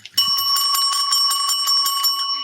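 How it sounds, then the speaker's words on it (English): Rapid series of bright metallic bell strikes, a dozen or so evenly spaced rings with sustained ringing overtones, loud and close, no talking. "So why did you hit that bell?"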